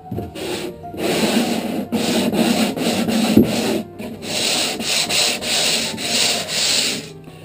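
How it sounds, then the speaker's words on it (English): Steady hand sanding on the wood of a Hal Kelly Jinx boat, a continuous rasping rub in long strokes with brief pauses between passes, close and fairly loud. "the longer the sanding surface, the smoother the curve is going to be"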